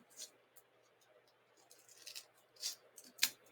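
Scissors snipping through white paper while cutting out a triangle for a paper centipede, a few crisp close snips and rustles spaced out over quiet room tone.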